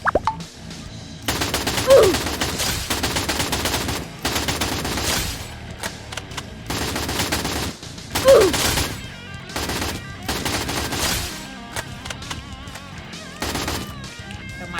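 Rapid automatic fire from an M4A1 rifle in the shooter game Free Fire: several long, dense bursts of shots, loud and close, separated by short pauses, with brief sharp impact accents.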